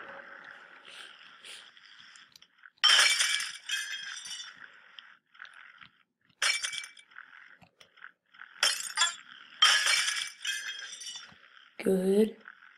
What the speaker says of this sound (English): Ultimate glass break, because I like smashing glass.